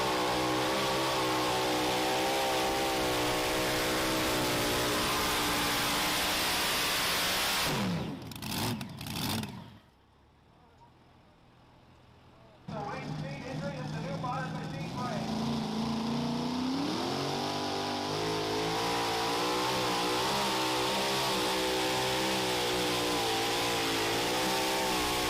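A pulling truck's engine screams at full throttle during a truck pull, a loud sustained roar that cuts off abruptly into near quiet for a few seconds, then bursts back and holds high revs to the end.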